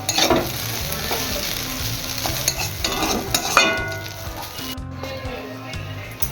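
Chowmein sizzles and fries in a pan while being stirred, a steady close crackling hiss broken by scraping stirs throughout.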